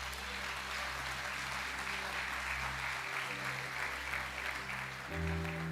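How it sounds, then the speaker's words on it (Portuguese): Church congregation applauding during a evening service, steady massed clapping heard at a distance beneath a low sustained organ or keyboard hum. "Você pode aplaudir Jesus nesta noite."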